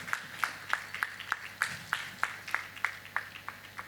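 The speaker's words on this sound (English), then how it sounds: "Please, a round of applause for him." An audience applauds a keynote speaker at the Edves Catalyst 2019 event, with steady, evenly spaced claps sounding across the hall at moderate volume.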